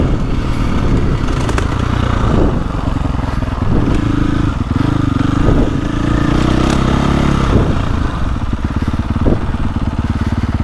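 A 2024.5 KTM 450 Factory Edition dirt bike with a RideWorx rear shock roars loud and close, its engine note rising and falling as it pulls hard, with clatter and scrapes from the ride.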